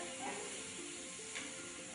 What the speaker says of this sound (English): That noise, that sizzling noise, that's what we want to hear.